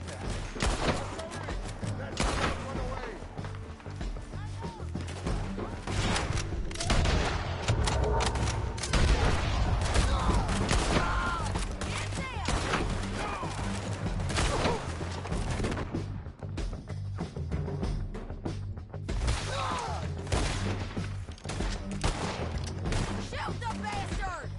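Gunfire in Red Dead Redemption 2 crackles through a long, dense shootout, with scattered shots and booms under frequent shouted talk.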